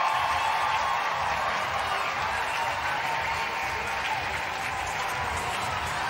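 A home crowd at the Verdun Auditorium applauds and cheers as the PWHL Montreal women's hockey team salutes them, steady, sustained clapping filling the arena.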